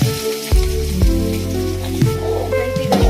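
Chopped onion hitting hot oil with cumin seeds in a pan, giving a steady loud sizzle with brief clatters as pieces go in, no talking.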